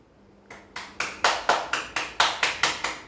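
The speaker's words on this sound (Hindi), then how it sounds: "उनके लिए ताली बजाइए।" Several slow, evenly spaced claps ring out close by for a kid yoga performer, about ten crisp hand claps in a steady rhythm with no talk over them.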